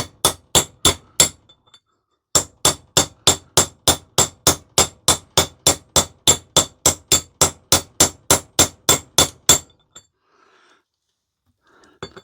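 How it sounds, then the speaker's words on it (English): Hammer repeatedly striking to drive a new wheel bearing into a three-wheel trailer hub, a steady run of sharp metallic blows with a short pause, then many more even strikes before stopping. "You'll hear when it goes because the note of the hammer will change."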